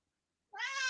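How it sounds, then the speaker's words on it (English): A house cat lets out a single short, clear meow close by, breaking sudden silence. "that's my cat. He scared the shit out of me."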